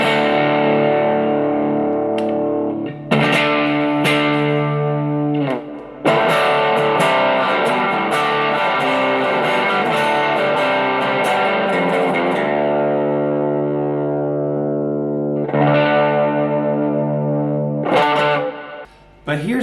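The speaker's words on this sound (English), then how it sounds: "I put on an overdrive, like a Mojo overdrive, and you can see the guitar is going to be really aggressive now" A Squier Classic Vibe Jazzmaster electric guitar runs through a Mojo overdrive pedal, playing loud, aggressive distorted chords and sustained notes with brief pauses between phrases.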